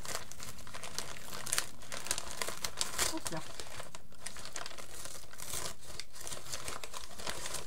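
Packaging from a scrapbooking mail parcel crinkles and tears close by as it is opened, with busy rustling throughout and someone speaking French over it.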